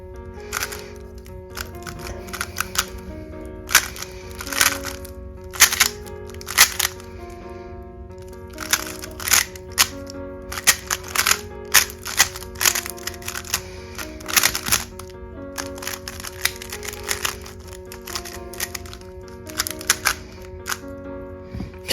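A freshly lubed CH Weilong WRM 2021 speedcube is turned rapidly through a solve, bursts of fast plastic clicking and clacking in irregular clusters with short pauses between, close up and alone.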